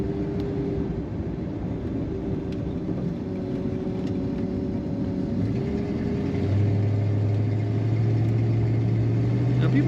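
A 1968 Dodge Charger hardtop drives along, heard from inside as a steady low engine rumble and road noise that rises in pitch and strength toward the end as the car accelerates.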